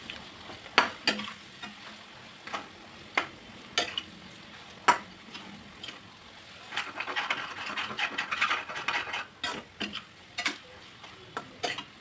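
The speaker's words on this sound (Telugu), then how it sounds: "ఒక 5 మినిట్స్ అట్లా వేగనివ్వాలి." Spicy chicken curry with masala fries in a pan, a steady sizzle broken by repeated sharp clicks of a spoon stirring against the pan, close and fairly loud, no talking.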